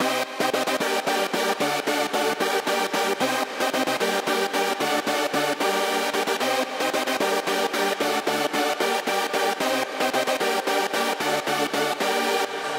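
A synth chord with closely voiced notes programmed in FL Studio, pulsing in a steady rapid rhythm throughout, bright and full at a moderate level with no talking.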